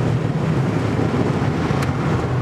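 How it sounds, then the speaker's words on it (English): Steady, loud buffeting wind noise pours through the open car windows while driving, a continuous low roar with no gaps. "can you close your window so I'm not getting all the wind sounds?"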